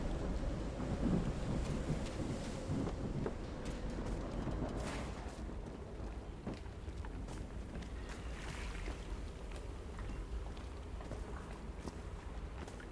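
A steady thunderstorm in the Call of the Sea game, with constant rain hiss and low rolling rumble that swells and fades across the span, no voices.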